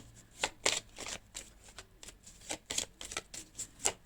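A deck of oracle cards is shuffled in quick riffling bursts, a run of crisp, close flicks and slaps coming in an uneven rhythm with short gaps, with no voice over them.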